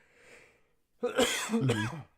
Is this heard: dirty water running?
no